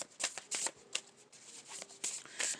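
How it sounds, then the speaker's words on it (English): Tarot cards riffle-shuffled in several quick bursts, crisp rapid flutters with short pauses between, close up and fairly loud. "Give me a quick shuffle on this first."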